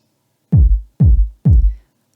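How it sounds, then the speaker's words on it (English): Three separate hits from a subby, long kick drum sample land at an even pace, each a deep booming thump that decays slowly and stands alone in silence. "This is a very subby kind of long kick."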